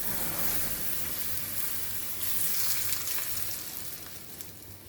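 Hot tempering oil poured over raw mango pickle sizzles steadily up close, a loud continuous hiss that fades a little toward the end.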